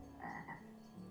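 A single frog croaks twice in quick succession in the video game Star Stable Online, a low, throaty sound, quiet and close, against a steady electronic hum.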